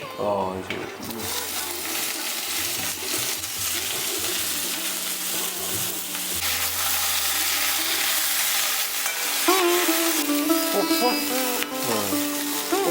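Valari payar (sword bean) thoran is stir-fried in a pan, with a constant sizzle and the repeated scraping and clatter of stirring, heard up close.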